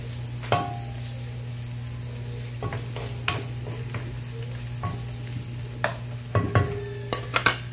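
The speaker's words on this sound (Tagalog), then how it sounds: "So saute this one until fragrant and maging transparent yung onion." Onion sizzles steadily in a hot pan, a continuous frying hiss broken by occasional scrapes and clinks of stirring, close and alone with no voices.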